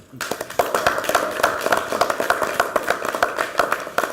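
Congratulatory applause from a small group in a meeting room, a run of sharp, fairly close hand claps with an irregular rhythm and no talk over it.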